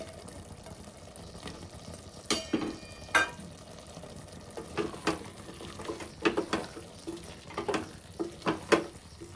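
A spoon stirs drumstick and tomato curry in a pan, giving irregular scraping clinks and soft wet sloshes over a low simmering hiss, close by and with no voices.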